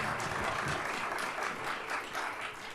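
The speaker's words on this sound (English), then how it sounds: "Please give a very warm applause and welcome to Rania." Applause from a seminar audience welcoming a speaker, a fairly quiet, sustained patter of many hands clapping heard from a distance for a few seconds.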